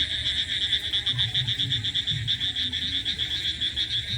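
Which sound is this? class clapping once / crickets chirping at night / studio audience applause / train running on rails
crickets chirping at night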